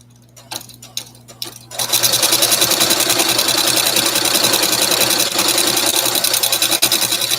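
A sewing machine running a back stitch, a few soft taps at first, then a loud, steady mechanical whir with rapid rhythmic ticking that continues to the end.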